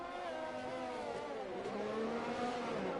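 Race cars in a PS4 racing game circulate in a pack behind a safety car, a steady layered engine drone with overlapping tones that shift in pitch as the cars run, loud and continuous throughout.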